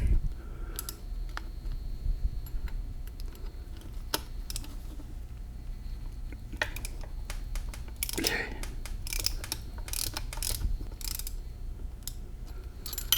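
A 3/16 long hex driver backs out bolts on a Dana 300 transfer case during a teardown, giving close metallic clicking, ratcheting and clinking in irregular bursts, with a few sharp knocks of tools on metal.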